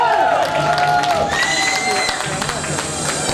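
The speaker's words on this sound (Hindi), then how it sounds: "देखिए तालियों में बिल्कुल भी कंजूसी नहीं है।" Audience applause and cheering at an annual school function, a dense crowd wash with scattered claps and voices, loud and steady throughout.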